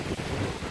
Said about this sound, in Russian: Ветер сменился. Прямо сейчас на нас идет.